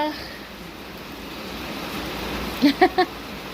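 Rain starting to fall outdoors where a family sits eating, a steady soft hiss throughout, with a few brief voice-like sounds near the end.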